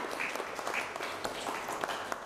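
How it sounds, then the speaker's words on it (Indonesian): A classroom group of students claps in steady, moderately loud applause for a student group, without speech. "kasih tepuk tangan untuk kelompok 2."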